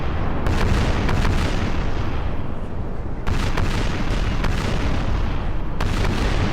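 Cannon broadsides roar in a Napoleon Total War naval battle: dense, continuous booming gunfire with sharp repeated cracks over a rumbling wash, loud and close throughout.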